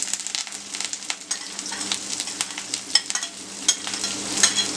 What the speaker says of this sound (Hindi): इसको अच्छे से फ्राई करेंगे जब तक ये थोड़ा सा गोल्डन ब्राउन नहीं हो जाएगा, और वो भी मीडियम हीट पे